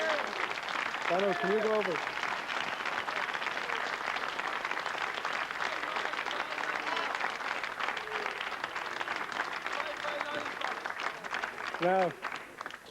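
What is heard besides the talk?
TV studio audience applause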